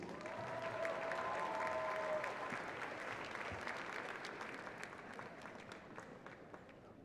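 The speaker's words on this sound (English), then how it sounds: "how about one more huge round of applause for the class of 2022" Applause from a crowd at the Neenah High School class of 2022 graduation, a steady distant wash of clapping that slowly fades, with a faint tone early on.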